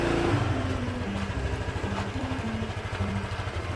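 New motorcycle engine idling nearby, a steady rhythmic low putter with a faint wavering whine over it, moderately quiet and continuous, with no talk.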